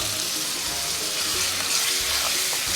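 Tamarind juice poured into a hot pan with turmeric, giving a steady, close wash of sizzling and watery hiss that runs throughout without a break.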